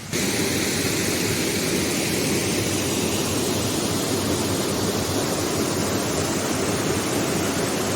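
The waterfall at Twin Falls Park roars in a constant, loud, broadband rush that fills the whole stretch without a break, with no voices.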